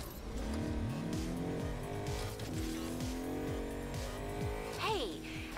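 Game car engine hums and revs in a steady drone with rising and falling pitch sweeps and brief tire-squeal bursts near the end, all close and loud over a game soundtrack.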